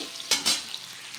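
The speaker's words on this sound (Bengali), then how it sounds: "আলুগুলো দিয়ে আমি একটু নেড়ে চেড়ে ভেজে নিচ্ছি হালকা করে" Potato pieces stirred in a generous amount of hot oil for a drumstick and potato dish, a soft sizzle under two short scraping stirs near the start.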